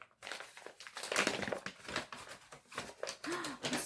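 A paper envelope from a pajama subscription package crinkles and rustles up close in a steady run of handling noises, with some voices around it.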